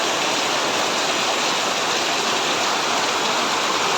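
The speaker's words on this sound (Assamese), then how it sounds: "চাওক বাহিৰত ইমান বৰষুণ" Heavy rain pours steadily outside a house, a dense, continuous hiss that stays loud and unbroken throughout with no voices.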